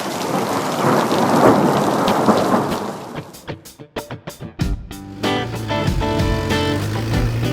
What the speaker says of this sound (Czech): večer přichází mohutné deště